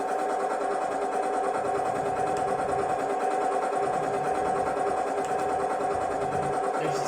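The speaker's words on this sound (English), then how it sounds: "It sounds like a nice tractor" A tractor engine runs steadily at a constant idle-like pace, a continuous mechanical drone that stays close and fairly loud throughout, with no talking.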